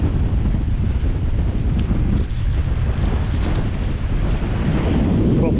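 Strong gusty wind on the bank of the River Mersey buffets the microphone in a loud, continuous low roar with rumbling surges, no voices heard.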